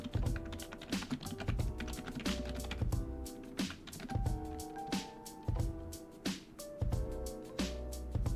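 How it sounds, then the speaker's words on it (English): Rapid, loud typing on a computer keyboard, a continuous clatter of sharp keystrokes in bursts with brief pauses, close and dry, with no talking. "sorry if my typing is too loud"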